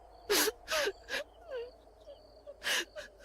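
A woman cries in a ghost story, sobbing and wailing in several short gasping bursts with pauses between them, close and fairly clear against a quiet background.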